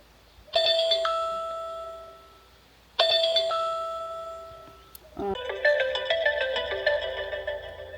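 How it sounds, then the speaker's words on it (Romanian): A battery-powered security camera with a solar panel chimes as it starts up after scanning a phone QR code: two clear electronic tones a few seconds apart, then a quicker rising melodic jingle, close and alone. "Tocmai m-a pus telefonul să țin așa în fața camerei și a făcut un bip și a pornit."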